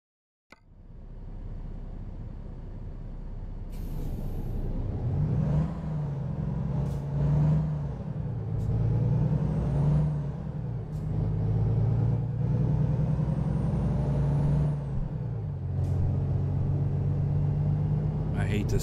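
A Volvo truck engine in American Truck Simulator drones with a deep rumble that rises and falls as it revs and shifts through gears, running throughout beneath someone talking.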